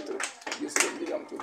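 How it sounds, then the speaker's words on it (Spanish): Clapping at a church celebration, separate hand claps in an uneven rhythm, fairly faint and mixed with voices talking. "Da un aplauso grande para Cristo."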